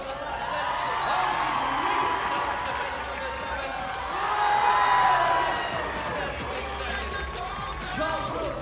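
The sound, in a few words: crowd cheering a rider at a show jumping event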